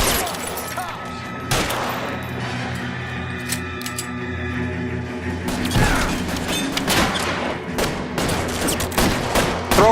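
Gunfire during a shootout in L.A. Noire: dense, loud bursts of shots and clattering impacts over a rumbling game soundscape, with a few sharper cracks standing out.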